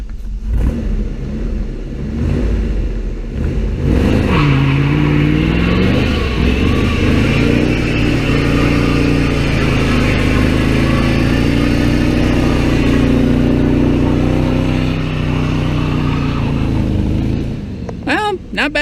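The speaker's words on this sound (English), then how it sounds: "Not bad burnout for distance." A car doing a burnout, its engine held at high revs in a loud, continuous roar with a rising pitch sweep and tire noise, lasting most of the clip before dropping away at the end.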